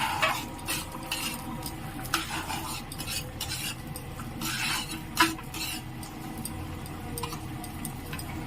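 A spoon stirs and scrapes in a pan while ingredients are lightly fried for Bengali payesh, with repeated metallic clinks and scrapes, a soft sizzle underneath and a couple of sharper knocks, close and fairly quiet.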